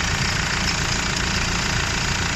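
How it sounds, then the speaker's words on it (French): A Nissan Navara D40 diesel engine running with its alternator pulley turning on a failing, sticking bearing, giving a steady close-up mechanical drone with a rough, grinding undertone and a faint knock. "Donc on va l'entendre avec le côté moteur. Là, c'est la poulie d'alternateur qui tourne là."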